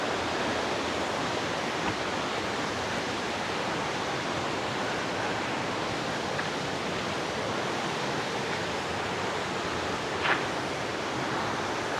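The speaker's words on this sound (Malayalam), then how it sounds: "എന്തായാലും അടിപൊളി ഒരു വെള്ളച്ചാട്ടമാണ്." A waterfall in the hills near the village of Kodikuthi, swollen by heavy rain, makes a steady, dense roar of rushing water that holds evenly throughout with no voices.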